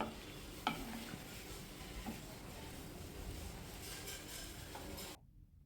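A spoon stirs and mixes food in a pan over a faint, steady sizzle, with a few light scrapes and knocks before the sound cuts off suddenly near the end.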